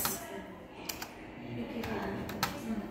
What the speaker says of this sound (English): See, I am typing.